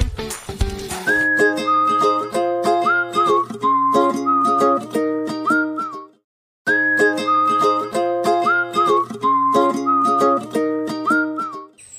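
A person whistles a bright, cheerful little melody over a plucked accompaniment, playing the phrase through once, pausing briefly, then repeating it, clear and close.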